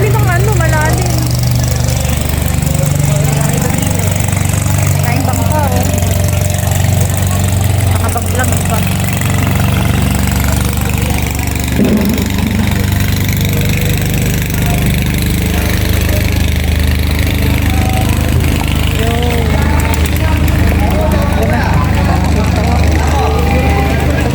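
A motorboat engine chugs and grows steadily as the boat arrives at a fish market, loud and continuous over a long stretch, with people talking over the rumble.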